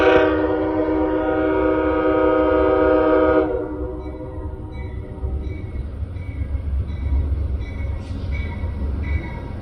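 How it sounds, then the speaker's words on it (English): An Amtrak Silver Star passenger train pulls into a station platform, its horn blaring loudly for a few seconds before giving way to a steady, rumbling roll of wheels and cars. "And I can hear the train, you can probably hear it too in the background there."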